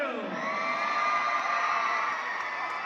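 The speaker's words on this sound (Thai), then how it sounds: "ขอเสียงเชียร์น้องปีใหม่น้ำเงินดังๆหน่อยเร็ว" Spectators cheer and whoop at a comedic Thai boxing bout between two transgender fighters, a continuous, lively crowd roar with shouts rising over it throughout.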